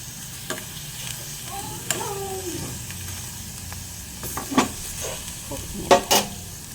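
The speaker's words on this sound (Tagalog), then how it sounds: "busy pa ako nagluluto ng aming pagkain" Food frying in a pan on a home stove, with a sizzling hiss underneath occasional stirring scrapes and utensil clinks, close by and moderately loud, with no talking.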